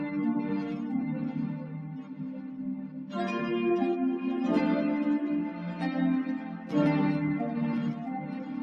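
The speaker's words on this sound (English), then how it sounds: "And we've got this pan to the right, and then we've got that original synth pan to the left. And they both sound like this put together." Two synth chord layers, one panned right and one panned left, play sustained chords together in a dance-pop production, with soft swells where the chords change every few seconds, at moderate level and with no voice over them.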